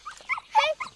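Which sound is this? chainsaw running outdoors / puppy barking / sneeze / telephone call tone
puppy barking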